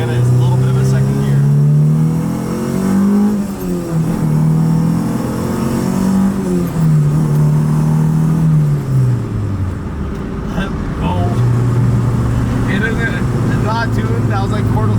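Honda Civic with a swapped K20 engine accelerating at quarter throttle, the engine note climbing and dipping through the revs under continuous road noise, steady and fairly loud from inside the car.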